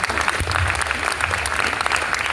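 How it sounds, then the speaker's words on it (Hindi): Dense applause from an audience at a university poetry recitation, loud and steady, a crowd clapping together for the whole short stretch. "सही कह रही हूँ तो तालियां बजाओ।"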